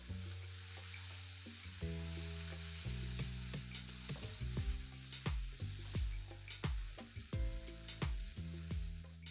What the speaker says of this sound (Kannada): ನಿಮಗಿಲ್ಲಿ ಕಾಣಿಸ್ಬೋದು ಟೊಮೆಟೊ ಎಣ್ಣೆಲೆ ಬೆಂದು ಸಾಫ್ಟ್ ಆಗ್ತಾ ಇದೆ